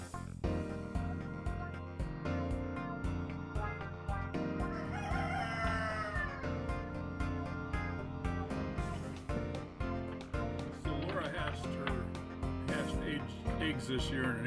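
Roosters from a batch of incubator-hatched chickens on a rural property crow repeatedly, mixed with clucking and a busy backdrop of music-like tones and clicks, fairly loud throughout.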